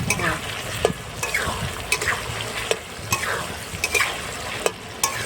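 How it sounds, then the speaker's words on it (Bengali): Spices, onions and tomatoes sizzle in a pan while a utensil stirs and scrapes them in repeated strokes, close up and fairly loud, with no talking. "কাকিমা একটু মশলাগুলো ভাজছে, পেঁয়াজ টমেটোগুলো"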